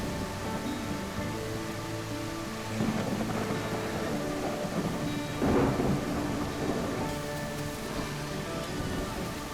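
Rainforest thunderstorm in the dinosaur survival game The Isle: steady heavy rain hissing on surfaces, with deep rolling thunder swelling partway through and a louder rumble later, no voices.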